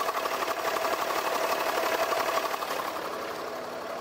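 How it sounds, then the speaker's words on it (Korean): A Land Rover Discovery 4 with the 3.0 SDV6 diesel V6 idles steadily, giving a close, even clatter with a fine mechanical ticking that holds through and softens slightly toward the end, with no talking. "엔진 소음 먼저 들려드리면은"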